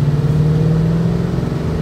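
A 2011 Ford Mustang engine with an aftermarket four-outlet exhaust holds a steady, deep, loud idle-rev drone, close and continuous, with no talk over it.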